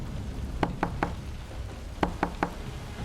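Knocking on a door in a Hindi cartoon story: two sets of three crisp, evenly spaced knocks separated by a short pause, loud and close over a faint room hum, with no talking.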